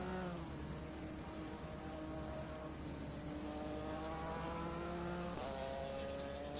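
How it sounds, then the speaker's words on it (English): A BMW M4 GT4 race car at Laguna Seca's corkscrew, heard as a steady, droning engine note with shifting pitch sweeps over a constant low rumble, moderately distant and continuous throughout. "At least see the tail end of the 69 BMW M4 as he now makes his way through the corkscrew."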